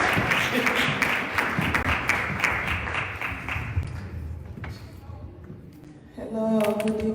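Applause at an annual fundraising dinner banquet and awards gala, a crowd clapping steadily and loudly for several seconds before fading, with voices and a brief tonal sound entering near the end.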